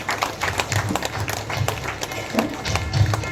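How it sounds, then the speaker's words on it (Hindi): An audience at a yoga inauguration ceremony in Surguja division claps steadily and continuously in a moderately distant, sustained ripple of applause, with faint voices mixed in. "सम्मानीय अतिथियों का सम्मान हो रहा है, तब तक हमारी तालियां बजती रहेगी।"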